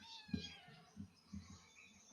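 Faint cat meows come in several short, quiet bursts, a little distant, with pauses between them.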